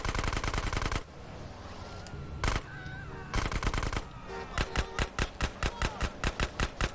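Enemy gunfire in GTA San Andreas comes in sharp rapid bursts, a loud rattling volley at the start, a few isolated shots in the middle, then a long evenly spaced string of shots, with no speech.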